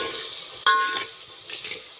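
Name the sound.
whole spices and masala roasting in a pan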